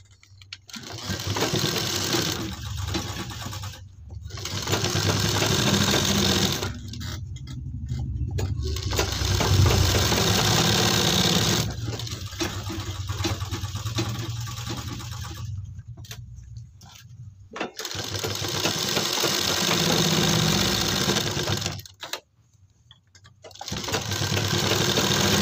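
A sewing machine stitches a half collar onto a kurti, whirring steadily and loudly up close in long runs broken by several short stops and restarts.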